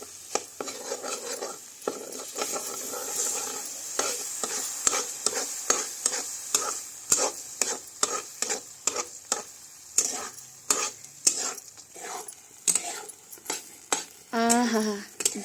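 Peanut paste frying in a pan, steady sizzle beneath rapid, repeated scraping and tapping strokes of a spatula against the metal, close and busy, with a short spoken remark near the end.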